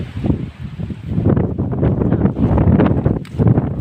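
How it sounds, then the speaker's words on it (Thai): Strong, cold wind buffets the microphone outdoors in a watermelon field, a steady, loud rumbling roar that swells and surges with no clear talk. "มีเสียงลมแรงจังหน่อยครับ"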